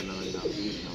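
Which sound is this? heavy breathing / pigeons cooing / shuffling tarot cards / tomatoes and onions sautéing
pigeons cooing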